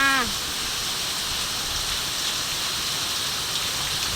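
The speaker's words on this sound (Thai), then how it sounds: "ฝนตกอีกแล้วค่ะทุกคนสองวันนี้ฝนตกหนักมากเลยค่ะ" Heavy rain pours steadily in a dense, hissing wash, after a brief voice at the very start.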